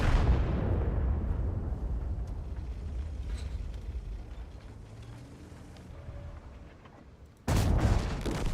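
Tank gun shots and explosions in the World of Tanks video game, a dense rumbling barrage of low booms filling the scene before a sharp, loud blast near the end.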